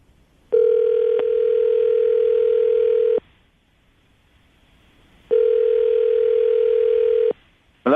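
A steady telephone dial tone hums loudly as radio hosts place a call. It runs for several seconds, cuts off, then returns for another long stretch after a quiet gap.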